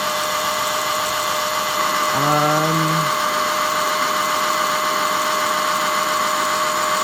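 Electric motor on a VESC test bench, loaded to about 40 amps at low duty cycle, gives a steady, fairly loud whine and hum throughout, with a brief rising tonal chirp partway through.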